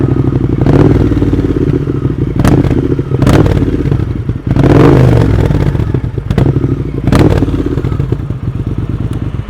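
A Zard aftermarket exhaust on a Triumph T120 motorcycle barks through repeated sharp revs, loud bursts rising and dropping over a deep rumbling idle, close up.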